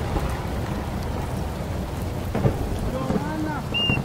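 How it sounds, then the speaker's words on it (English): Steady rain falls over an outdoor football practice, a dense, even hiss that runs the whole time, with faint distant voices and a few brief sounds rising out of it near the end. "they're practicing in the rain for like the fifth time"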